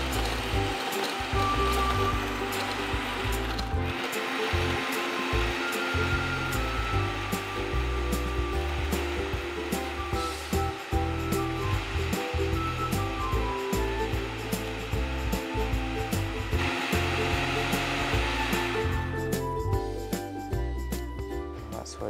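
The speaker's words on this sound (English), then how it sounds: "Now I am going to blend." A blender whirs through a pineapple and ginger ale drink, a loud, continuous motor whine that runs for about twenty seconds with small shifts in pitch before easing near the end.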